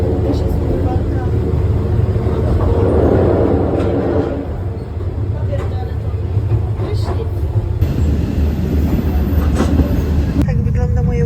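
Steady rumble of a moving sleeper train in Thailand heard from inside the carriage, with continuous low rail noise and faint rattling throughout, a shift in tone near the end, and some background voices.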